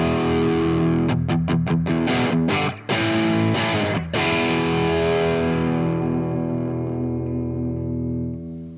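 Fender Performer Jazzmaster electric guitar on its humbucker pickup, played loud and distorted with a run of quick strummed chords, then a sustained ringing chord that slowly fades, with no talking.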